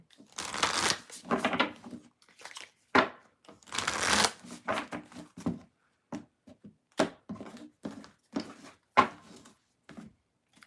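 Tarot cards riffle and snap in repeated bursts, a few long shuffles followed by shorter taps and flicks, close and crisp with no talking.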